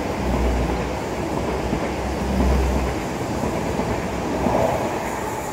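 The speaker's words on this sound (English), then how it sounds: "First train of the day" A train rumbles past near a seafront seawall on a frosty early morning, a steady low roar with rhythmic wheel noise that swells slightly mid-pass and carries on throughout.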